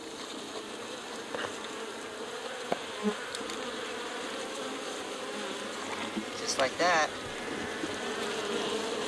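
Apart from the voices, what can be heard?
honeybees buzzing at a nuc hive in a bee yard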